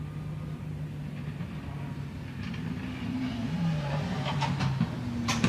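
A racing car at the Goodwood Festival of Speed hillclimb braking into Molecomb corner, its engine a fairly quiet, distant drone that slowly swells as it nears, with a few sharp clicks near the end.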